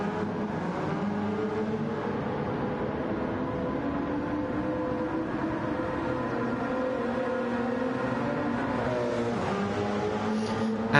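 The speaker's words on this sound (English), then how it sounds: "And the LMP1s are underway again." LMP1 prototype race cars circulating at Spa in a racing video game, a steady, continuous engine drone with layered pitches that rise and fall gently, moderately loud with no break.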